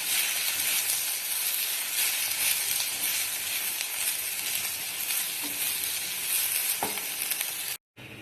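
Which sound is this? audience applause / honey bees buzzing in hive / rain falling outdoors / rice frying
rice frying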